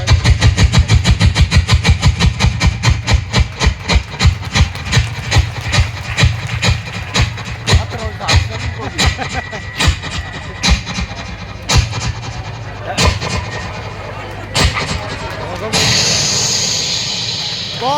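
A voice imitates a diesel engine running out of fuel, starting with fast rhythmic chugging pulses that gradually slow and become irregular before sputtering to a stop, followed by a brief breathy hiss.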